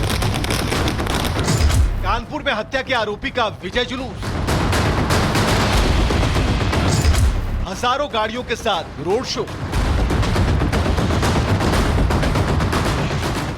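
Firecrackers burst on a Maharashtra street during a procession for a gangster freed on bail, loud crackling volleys filling long stretches while a news narrator speaks in between and over them.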